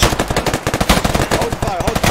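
Rapid, loud machine gun fire in the video game Afghanistan 1980, dense bursts of shots in quick succession, close and continuous.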